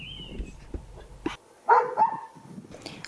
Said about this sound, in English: Wild dogs roamed the forest,